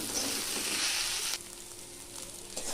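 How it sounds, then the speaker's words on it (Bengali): Boiled rajma, boiled potato, green chilli and kasuri methi are stir-fried in a pan with a steady close sizzle that drops to a quieter crackle partway through, with light scraping and no talk. "আরও 1 মিনিট মতো নাড়াচাড়া করে গ্যাসটা বন্ধ করে দিলাম"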